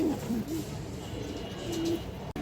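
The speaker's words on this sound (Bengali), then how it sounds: "খুবই সুন্দর একটা লাল চুল্লি মাদি কবুতর আছে" Soft, low cooing from a female pigeon comes in short murmurs at the start and again near the end over a quiet background hiss.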